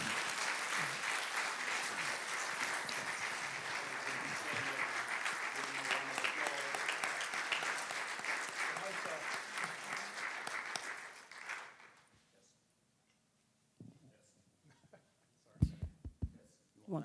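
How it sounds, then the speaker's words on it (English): A room of people gives a final round of applause to the candidates after a conversation event, dense clapping sustained for about eleven seconds before fading out, followed by near silence with a few scattered knocks and rustles. "let's give them one more final round of applause"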